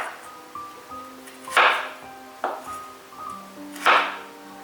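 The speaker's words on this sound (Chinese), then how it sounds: "切成像这样子细细的条状就可以了。" A knife chopping a peeled carrot into thin strips on a board: three sharp, separate cuts spaced about a second apart, close and crisp, over soft background music with no talking.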